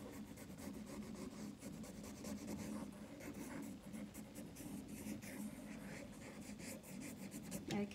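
A pen draws one continuous line across paper, making a soft, steady scratching and rubbing that stays faint and close throughout.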